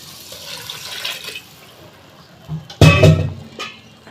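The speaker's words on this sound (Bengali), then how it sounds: "ঝোলের জন্য আমি পরিমাণ মতো জল দিয়ে দিয়েছি" Water poured into a pan of fried potato and cauliflower for a thin rohu fish curry, a short loud splashing burst after a quiet lead-in, then easing into a brief bubbling trickle.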